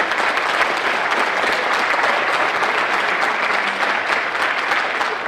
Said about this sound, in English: Can we give these students a huge round of applause?